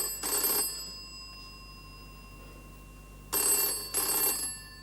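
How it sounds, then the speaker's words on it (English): An old-style telephone bell rings in loud double bursts, one ring, a pause, then two more close together in a quiet room. "It's the phone."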